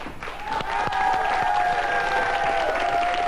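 A karaoke audience claps for the singer, a steady burst of applause with a sustained tone ringing over it, fairly close and even throughout.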